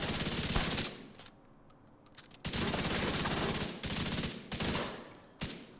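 Automatic weapon fire in The Division 2 during a PvE fight, several loud, close bursts of rapid shots broken by short pauses, the last burst clipped short.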